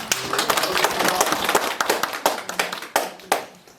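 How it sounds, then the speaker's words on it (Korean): An audience at a forum discussion on inequality applauds to welcome guests, with dense, close clapping that thins into scattered individual claps toward the end. "따뜻한 박수로 맞이해 주시기 바랍니다"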